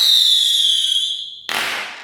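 A firework whistles loudly as a long, slowly falling squeal and then bursts into a sharp crackling explosion that fades out quickly. The recording plays at normal speed.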